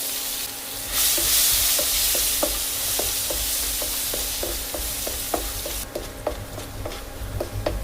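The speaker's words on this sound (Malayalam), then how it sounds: "അതിലേക്ക് ഇഞ്ചി അരിഞ്ഞതും വെളുത്തുള്ളി അരിഞ്ഞതും കൂടെ ചേർക്കാം" Chopped ginger and garlic sizzle loudly in a hot pan with cashews, with a spoon stirring and tapping in a quick, irregular rhythm over a steady frying hiss.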